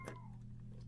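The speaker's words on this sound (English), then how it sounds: "My cat is howling now." A pet cat lets out a single short howl near the start, close and fairly loud, over a steady low electrical hum that continues after it fades.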